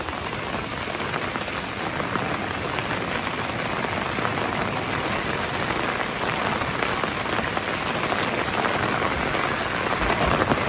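Steady, heavy rain pours on a slippery, moss-covered hillside, a dense and continuous wash of drops that stays loud and even throughout with no voices.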